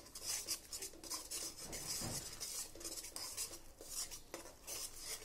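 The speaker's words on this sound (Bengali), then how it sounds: "পেঁয়াজ, রসুন, ধনিয়া পাতা, কাঁচামরিচ বাটাটা দিয়ে দিলাম, ভালোভাবে কষা যাক।" Onion, garlic, coriander and green chili paste frying in oil, stirred with a metal utensil against a pan, giving continuous scraping, clinking and soft sizzle, close and steady.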